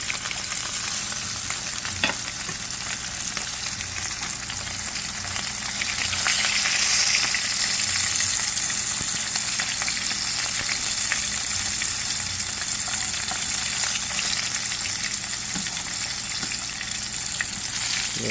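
Walleye fillets frying in a pan, a loud, close, continuous sizzle and crackle of hot oil for the whole stretch, with a few faint scrapes of flipping and no voices.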